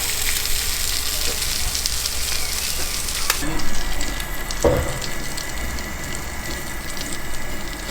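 Sausages fry over an open flame outdoors at a camp, giving a steady hiss and sizzle with a sharp clatter partway through, and no voices present.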